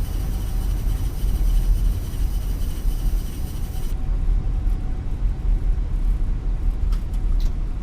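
Fenix A320 airliner in a flight sim game rolling out on landing with idle reverse thrust and manual braking: a steady, loud low-pitched engine roar and rumble that persists throughout without pause.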